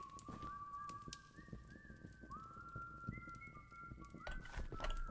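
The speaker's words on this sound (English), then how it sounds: "This guy ever come this way, or is he just sitting there whistling?" A game character in Choo-Choo Charles whistles a wavering, sliding tune in several long phrases, moderately near, over a faint scuffing background with no talking.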